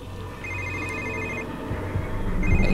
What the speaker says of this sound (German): Ja, Telefon.